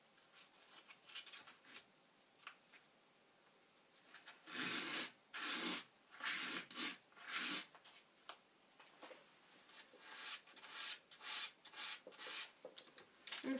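Coarse sandpaper rubs back and forth over a paper dry-point plate in close, quiet strokes, starting faint and building into repeated rhythmic bursts of scratchy sanding.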